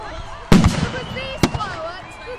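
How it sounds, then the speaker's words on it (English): Fireworks burst over East Hoathly at a large public display, two sharp booming explosions about a second apart with crackling tails, echoing in the open air while spectators react nearby. "Oh my god, the whole sky is full of fireworks."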